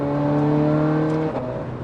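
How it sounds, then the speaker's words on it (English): Ferrari 430 Scuderia engine pulls hard at steady high revs, then its note drops sharply as a fast gearshift cuts in, loud and close with no talking. "This gear change, I mean, I can't get over it. Feel this gear change."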